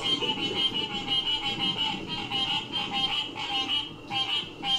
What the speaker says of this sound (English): these frogs just dropped the best beat of 2024